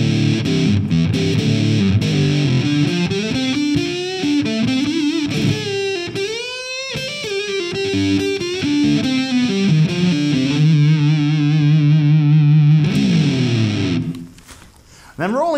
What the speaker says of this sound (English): engaging the fuzz, let's set this fuzz control at about 12 o'clock